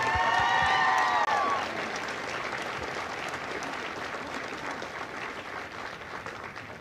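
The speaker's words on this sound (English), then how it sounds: "please join me in a well-deserved round of applause for the drill instructors and families of Alpha" A crowd at a Marine Corps recruit graduation at MCRD San Diego gives a sustained round of applause for Alpha Company's drill instructors and families, with steady clapping after a voice at the start.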